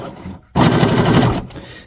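Sewing machine stitching rope for a rope bowl, a loud rapid mechanical whirr running about a second after a brief quieter start, close by and with no voices.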